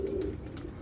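A pigeon coos once, close by, in a short low throaty burst from prized fancy racing pigeons kept on a rooftop loft, followed by a soft murmur of background noise.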